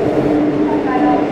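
Steady, loud rumble of a Seoul subway train in motion, heard from inside the last carriage, with continuous rail noise and no pause across the short stretch.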